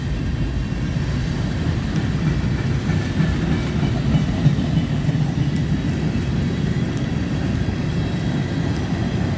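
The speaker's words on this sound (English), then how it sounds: "More empty tank cars." A freight train of empty tank cars rolls past in the rain, a steady loud rumble of wheels with faint clickety-clack throughout, close by and unbroken.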